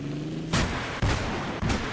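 Artillery fire in the Battlefield 3 video game booms three times at roughly half-second intervals, each blast sharp and loud with a short rumbling tail.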